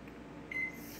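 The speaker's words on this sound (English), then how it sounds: "put the bowl in the microwave, close it, and cook it for 1000 watt" A microwave oven running at 1000 watts gives off a steady low electrical hum, with a brief faint tonal whine partway through.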